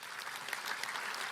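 Crowd applause sound effect plays as a steady wash of clapping, fairly faint and continuous throughout with no voices over it.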